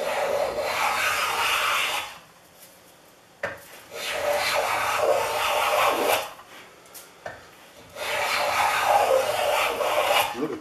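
A Stanley No. 140 hand plane with a widened throat and repaired cap shaves 1-inch walnut held in a vise, giving three long, close, rasping strokes separated by short pauses.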